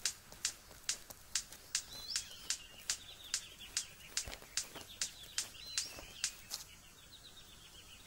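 A series of sharp, evenly spaced clicking snaps from a bird, with a few thin whistled notes mixed in, close and fairly quiet.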